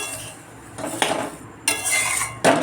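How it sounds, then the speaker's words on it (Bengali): A metal spoon scrapes and clinks against a pan while frying snacks are stirred, several short bursts of clatter over a faint frying hiss, close and alone. "আর একটু ভাজা হবে দেখো অনেকটাই ভাজা হয়ে গেছে আর একটু নাড়বো এরকম করে"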